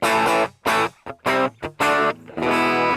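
Electric guitar played through a Fender Reverb amp cabinet model on a NUX Mighty Lite BT MK2 mini amp, with several loud, distorted strummed chords separated by brief gaps, ending in a sustained ringing chord.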